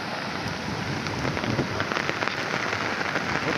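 Heavy rain pours down steadily in a village, a dense close hiss of drops striking surfaces with a few louder patters, no voices.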